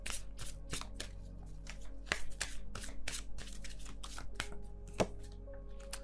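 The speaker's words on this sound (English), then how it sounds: "I'm not shuffling very quickly or anything" Tarot cards are shuffled at an unhurried pace, a series of crisp slaps and soft flutters close by over a low steady hum.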